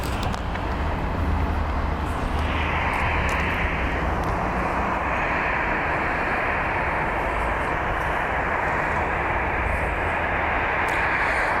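An airliner, likely an Airbus A319, taxis at Columbus John Glenn International Airport in Columbus, Ohio. A loud, steady jet engine roar with a rising whine holds continuously outdoors, with no talking.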